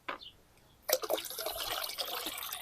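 Fermented kefir whey pours from a container into liquid, starting with a light drip and then turning into a steady close gurgling splash that keeps on to the end, with no talk.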